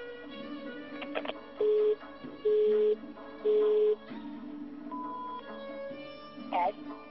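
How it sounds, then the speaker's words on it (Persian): Telephone line ringing unanswered during a call, repeated steady tone bursts about a second apart over a background of music and voices. "پرویز جان خواهش میکنم گوشی رو برداریم"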